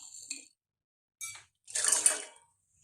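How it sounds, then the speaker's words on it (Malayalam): Water poured into a pot set on a stove, heard as a short clatter followed by a louder, splashing pour lasting under a second, with no talking. "നമുക്ക് ഒരു പാത്രം അടുപ്പിൽ വെച്ച് അതിൽ കുറച്ച് വെള്ളം ഒഴിക്കും"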